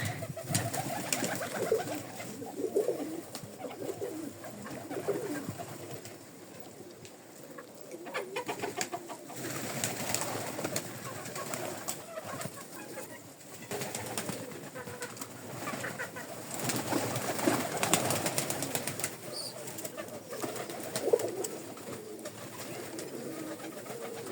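Pigeons coo softly in a backyard coop among hens, their low murmuring calls repeating on and off at moderate distance over a steady bed of rustling and background noise.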